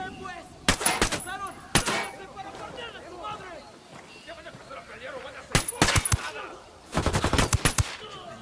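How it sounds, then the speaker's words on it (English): Gunfire in Ghost Recon: rapid bursts of automatic fire come in several short volleys, loud and close, separated by quieter stretches where voices talk over faint background activity. "Opening fire."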